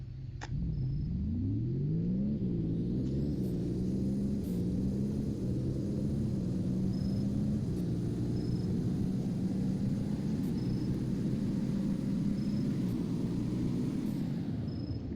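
Ford twin-turbo V6 car in the Roblox game Greenville accelerates from 0 to 60, its engine droning steadily with a rising pitch that climbs through gear shifts, loud and continuous with faint high chimes.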